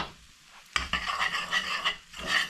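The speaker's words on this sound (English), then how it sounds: "Give it a really good stirring through." A spoon scrapes and clatters around a pot of homemade minted chilli mushy peas, a sudden start followed by busy, close rubbing and knocking strokes, briefly pausing before resuming.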